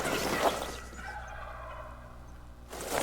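A wild turkey gobbles in a hunting video game set in Silver Ridge Peaks, with loud rough bursts at the start and end around a quieter stretch of ambient game noise.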